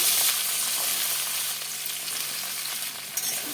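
Vegetables frying in hot mustard oil with bay leaf and five-spice tempering, giving a steady, close-up sizzle and crackle that stays even throughout, with no voices.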